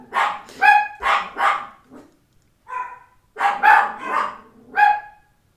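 A dog barks repeatedly and close by in short clusters, broken by a brief pause, with no talking.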